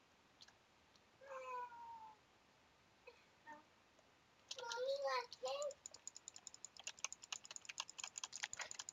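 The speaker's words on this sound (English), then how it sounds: "I have a kid around here playing with kittens." Kittens being played with by a child, giving short high meows and mews at intervals, some overlapping, followed by rapid tapping like typing on a keyboard close by.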